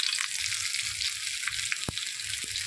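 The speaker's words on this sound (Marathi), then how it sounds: "आता ही कारली आपण तुम्ही पाहू शकता तेलामध्ये छान वाफलून घ्यायची आणि मंद आचेवरती अशी कुरकुरीत छान होऊन द्यायची" Stuffed bitter gourd (karela) frying in oil over low heat, a steady soft sizzle with occasional light pops and a brief knock, no talking.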